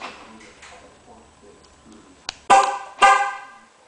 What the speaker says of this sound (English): Horn honk confirmation.